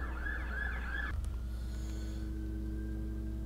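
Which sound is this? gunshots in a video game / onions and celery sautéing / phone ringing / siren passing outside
siren passing outside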